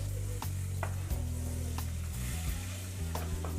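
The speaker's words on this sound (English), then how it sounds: "I'm just going to drop them in the butter" Potatoes sizzle in butter in a pan, a steady crackling fry with a few sharp clicks from stirring or dropping pieces in, under a low background hum.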